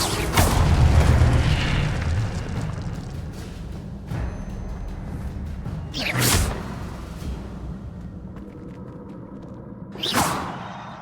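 Incendio fire spell in Hogwarts Legacy: a heavy whooshing boom at the start, then several sharp bursts spaced a few seconds apart over a rumbling background, with no talking.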